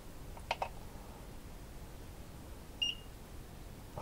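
A Hakko FX-951 soldering station gives a single short, high electronic beep on reaching its set temperature, preceded by a couple of faint button clicks in a quiet room.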